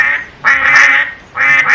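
Two loud, nasal duck quacks close up, the first lasting over half a second and the second starting after a brief pause, with no talking.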